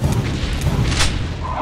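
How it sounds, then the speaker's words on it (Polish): A single booming gunshot from the old-school FPS game Unloved, loud and heavy with a low rumble, over a dense background of game noise. "prawy przycisk to jest pojedynczy strzał"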